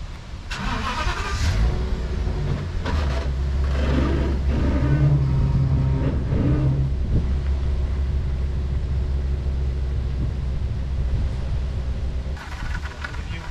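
A truck's engine starts and revs as it pulls away towing a C&C 35 Mk III sailboat, with a loud, close rumble that builds, holds steady, then eases off.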